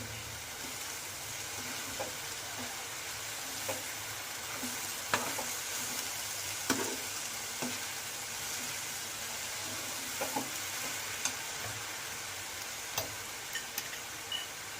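Frying and stirring in a pan as coriander is mixed into veg momo filling: a steady sizzle runs throughout, broken by scattered spoon clicks and scrapes against the pan.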